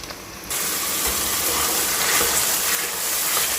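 Frozen peas drop into onions already frying in a pan, and a sudden dense rush of loud hissing sizzle starts and holds steady close by.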